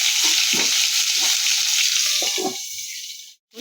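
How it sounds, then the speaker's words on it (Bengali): Steady, loud sizzling of pointed gourd frying in hot oil, partly covered, with occasional stirring scrapes, fading near the end. "এবার আমি পটলটাকে একটু ভালো করে ভাজবো ঢেকে ঢেকে ভালো করে পটলটাকে একটু ভাজবো"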